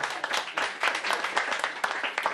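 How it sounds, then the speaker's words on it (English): Applause from a comedy show audience, with steady, fairly dense clapping that stays at an even, moderate level the whole way through, with no voices on top. "applause for Johnny Scoop, everybody."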